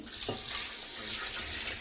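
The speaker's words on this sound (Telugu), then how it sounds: "5 గ్లాసులకి 10 గ్లాసులు వాటర్ వేసుకోవాలి" Water is poured steadily into a pot of ordinary non-basmati rice for chicken pulao, giving a continuous splashing rush at close range without any speech.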